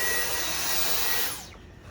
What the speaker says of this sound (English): This is the coolest vacuum cleaner ever.